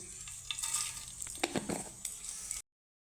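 Panch phoron, a five-spice mix, fries in hot oil beside a dried red chilli, crackling and popping close up with sharp sizzling bursts before cutting briefly to silence at the end.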